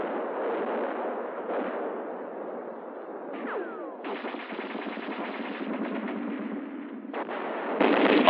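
Machine gun fire in a 1950 US Army combat scene in deep snow and extreme cold, sounding as rapid continuous bursts over a steady rumble, with louder sharp volleys late on and no talk.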